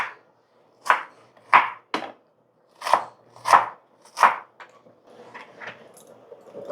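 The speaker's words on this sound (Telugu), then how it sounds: "ఆనియన్స్ ఇందాక చీరికలుగా కట్ చేశాను వీటిని మళ్ళీ ఇంకా చిన్నగా కట్ చేసుకుంటున్నాను" A knife on a cutting board chopping onions finely into smaller pieces, with about eight distinct sharp chops in an uneven rhythm followed by lighter quick taps, close and clear, no talking.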